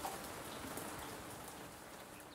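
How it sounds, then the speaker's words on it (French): Steady rain falls in a scene from a children's picture story, a dense, even patter of drops on surfaces that stays constant throughout, soft and continuous with no voices over it. "Maintenant, il fait tout gris et Lily danse sous la pluie."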